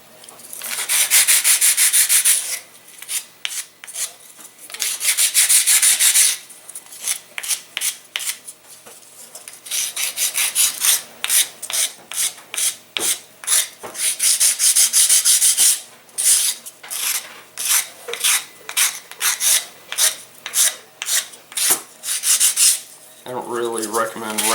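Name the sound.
light sanding of wooden R/C glider parts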